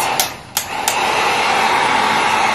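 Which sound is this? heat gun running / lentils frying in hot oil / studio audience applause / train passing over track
heat gun running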